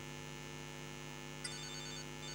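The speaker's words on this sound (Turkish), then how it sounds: "Telefonum çalıyor." A mobile phone ringtone begins partway through, ringing in the GTA Liberty City video game over a steady electrical hum, with no talking.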